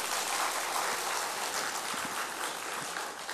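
A congregation at a Korean church revival service claps together in steady, dense applause that fills the room at a constant level throughout.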